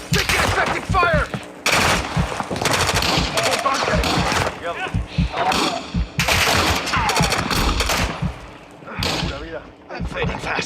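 Call of Duty DMZ gunfire: loud, repeated bursts of automatic fire and heavy shots in several clusters, close and punchy, with voices shouting over the combat.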